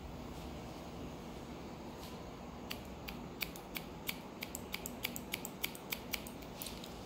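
Scissors snipping hair during a layered haircut, a quick series of light, crisp metallic snips in an irregular rhythm, close but faint over a steady background hiss.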